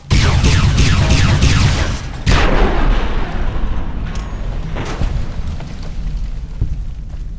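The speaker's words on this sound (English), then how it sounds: "Firing weapons." Weapons firing in the Fallout: New California game at Fort Daggerpoint, a loud opening barrage of rapid gunfire and booming blasts that fades into scattered distant shots and rumbling echoes.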